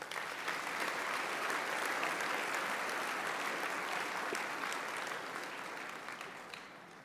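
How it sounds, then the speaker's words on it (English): An audience at a spring convocation for a School of Social and Community Services applauds faculty and staff, with sustained, dense clapping that continues evenly for several seconds before tapering slightly at the end. "Let's give them a round of applause"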